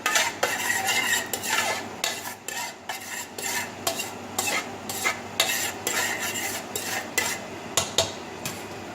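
Vegetables being stirred and turned in a hot pan under a broiler on high, with repeated scraping and clinking of a metal utensil against the pan over a soft sizzle, close and busy throughout.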